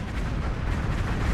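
A TNT missile detonates in the Minecraft Create Aeronautics game as a dense, loud, continuous rumbling blast that fills the whole moment with no pauses.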